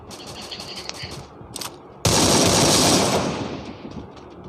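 Bursts of rapid gunfire in the Free Fire video game, first muffled and distant, then a loud sustained volley up close that fades into echoing shots.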